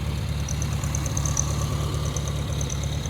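The air-cooled engine of a 1970 VW Bug idles nearby with a steady, rapid low chugging pulse and a faint metallic ticking over it.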